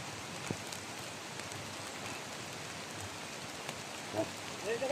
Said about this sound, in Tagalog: Kahit malakas pa ang ulan.